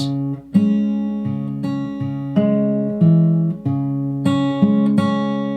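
Fingerpicked acoustic guitar, individual plucked notes and bass tones ringing in a gentle, even rhythm, close and clear.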